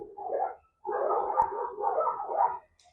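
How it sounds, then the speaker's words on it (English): Dogs barking at an animal shelter, a dense chorus of overlapping barks and yips in two long sustained bursts with a short gap between, fairly loud and close, with no speech. "Brendan, hearing some dogs barking in the background"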